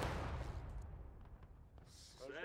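Company musket volley in the War of Rights video game, a heavy booming crash of massed gunfire rolling out at once, followed by a fading rumble and scattered distant reports.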